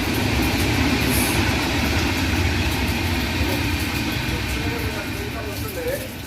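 A train rumbles past at night, a steady loud roar with faint rhythmic rail clatter filling the whole span and slowly easing toward the end, while people speak softly beneath it.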